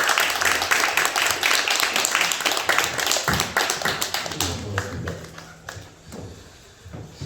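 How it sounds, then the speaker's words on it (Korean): A church congregation claps to welcome an elder at a Sunday service. Dense, lively clapping fills the first half, then thins out into scattered, individual claps that trail off. "크게 박수 한번 부탁드립니다"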